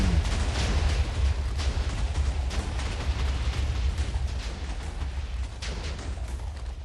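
Fireworks show in the Minecraft video game, a dense continuous barrage of booms and crackling bursts, loud and steady throughout with no talking.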